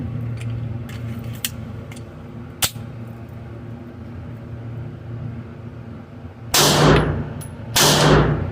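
Glock 42 pistol fired at a shooting range: a few sharp, loud reports, one isolated shot early and two heavy shots near the end, with faint distant range noise between them.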